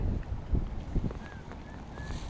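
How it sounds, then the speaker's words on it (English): Gusty wind buffeting the microphone while paddling an Intex Explorer K2 inflatable kayak in a harbor, low rumbling thumps with faint water sounds, fairly quiet and uneven throughout. "The wind's probably gonna block out my sound in a moment"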